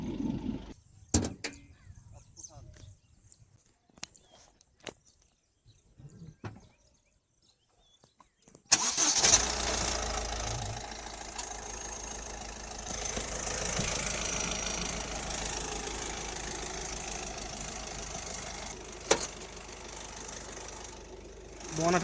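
A Honda WR-V engine, heard from outside the car, turns over and settles into a steady idle, a low continuous rumble after several seconds of near quiet with faint knocks.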